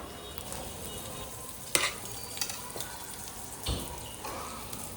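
Potatoes for samosa filling stirred into spiced masala in a hot pan, a steady low sizzle broken by a few sharp spoon scrapes and clacks, close by with no one talking.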